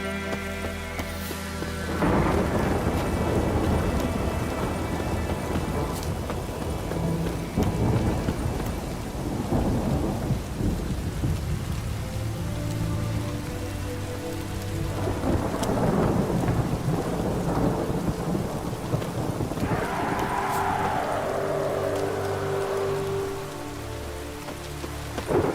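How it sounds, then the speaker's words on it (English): A heavy thunderstorm with steady loud rain on surfaces, broken by several deep rolling thunder rumbles, and no voices. "The storm, damn it."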